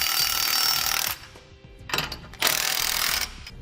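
A socket wrench snugs up nylon lock nuts on a 2016 Ford F-series truck's suspension hardware, giving two bursts of fast mechanical ratcheting separated by a short pause, close and clear.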